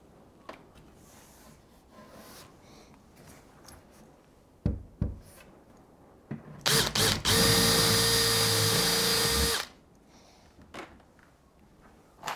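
A drill fitted with a self-drilling countersink bit bores into a melamine cabinet panel: a few short knocks and brief whirs, then one loud, steady high-pitched run of about three seconds, close and alone.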